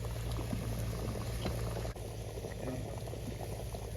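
Rice boiling in a cooker, a steady close bubbling and hissing that runs without a break and stays alone with no voices over it.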